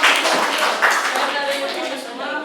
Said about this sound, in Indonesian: Kelompok 1 boleh dikasih tepuk tangan.